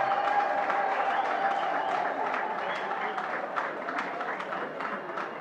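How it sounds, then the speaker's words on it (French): Crowd applause for President Félix Antoine Tshisekedi at a public gathering, steady dense clapping heard somewhat distant, with a murmur of voices mixed in throughout. "Est-ce que nous pouvons encore applaudir pour le président Félix Antoine Tshisekedi?"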